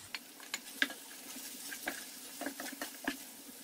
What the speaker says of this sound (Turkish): kabuklarını soyup küp küp doğradığım domatesleri ekliyorum